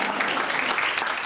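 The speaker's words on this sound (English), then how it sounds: "You can clap." Students applauding during a campus talk on an impeachment inquiry, a brief, dense burst of clapping from a crowd, fairly loud and close, with no other sounds over it.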